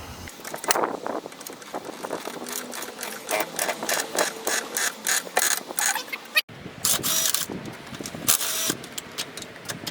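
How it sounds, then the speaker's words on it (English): A car jack is worked under a Vauxhall Vectra VXR 2.8 V6 turbo, a rapid repetitive ratcheting clatter from close up. It runs steadily with a short pause midway, and no one talks. "and then jack her up."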